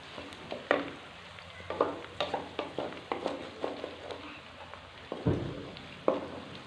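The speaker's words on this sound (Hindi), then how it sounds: "प्याज ब्राउन होने वाले हैं।" Onions frying and browning in a pan for aloo gobhi, a low steady sizzle broken by repeated stirring scrapes and clinks at close range.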